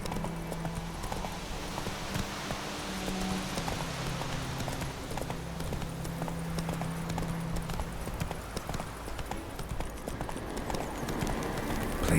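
Geralt's horse Roach galloping in The Witcher 3: Wild Hunt, a rapid continuous drumming of hoof clip-clops at a steady pace, moderately loud, over a low ambient bed.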